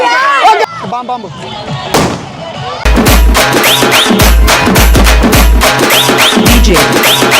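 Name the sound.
firecrackers bursting at Ganesh immersion procession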